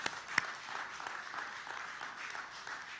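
A church congregation applauds during a Sunday worship service, a steady wash of clapping hands held at moderate level throughout with one sharp louder clap standing out near the start.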